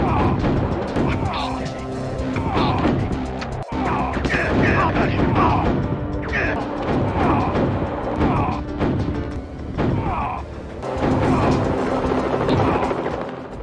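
Gunfire and headshots in a Mission Impossible video game, a dense game soundtrack with repeated sharp shot bursts and impacts over continuous music and effects, loud throughout.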